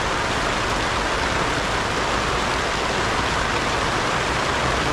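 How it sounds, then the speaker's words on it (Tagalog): Steady rain falls in a garden, a dense, even hiss that holds constant and fairly loud throughout, with no voices or other sounds over it. "Lumalabas yung ulan."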